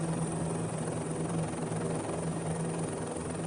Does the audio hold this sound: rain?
no